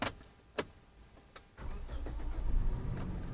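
A 2008 Toyota Fortuner G 2.7 automatic: a few faint clicks and a key knock, then the engine turns over and settles into a steady low idle that builds slightly.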